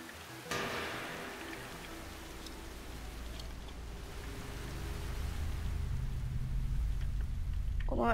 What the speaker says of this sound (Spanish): Aquí está lloviendo.